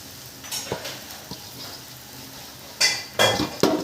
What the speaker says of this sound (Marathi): ह्या पावचा चुरा टाकून आपण फ्राय करूया